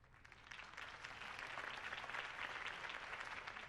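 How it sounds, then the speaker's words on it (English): A crowd applauds after Harvey Dent's campaign speech in Batman: The Telltale Series, a dense, steady clapping that builds slightly and holds, with no voices. "could have heard that applause"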